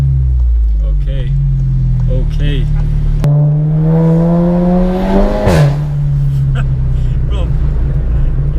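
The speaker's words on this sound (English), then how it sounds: "you know that's the first time I've done like sort of a half acceleration" A 420 bhp Seat Leon Cupra engine revs and accelerates hard from inside the car, its rising drone climbing through the gears with a sharp shift midway, loud and close, with occasional talk over it.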